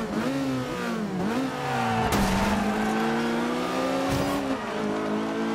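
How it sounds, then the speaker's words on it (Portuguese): A race car in the Forza Horizon 2 video game accelerates hard through the gears, its engine note climbing and dropping at each shift, loud and continuous with no talk over it. "o carro dele tá acelerando mais"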